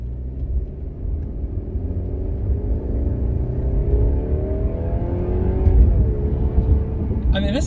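A 2022 Mercedes C-Class four-cylinder turbo engine hums and gradually rises in pitch as it accelerates, a steady smooth drone heard from inside the cabin.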